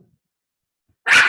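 Puppies give a single short, loud bark near the end after a long stretch of silence, close to the microphone.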